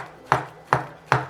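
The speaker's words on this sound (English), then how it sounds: "start chopping it" A plastic spatula chops eggplant in three evenly spaced, close, soft thuds on a board, each sharp at the start and fading quickly, with no voices.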